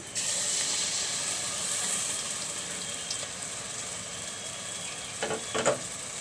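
Spices hit hot mustard oil in a pan while hilsa fish cooks, with a loud sizzling hiss that bursts in at the start and then settles into a steady fry, and a few clinks near the end.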